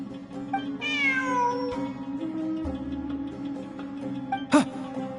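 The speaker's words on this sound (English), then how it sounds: "Look! A cat!" A cat in Genshin Impact gives a single clear, rising-then-falling meow over a steady game music bed, followed later by a short sharp chime.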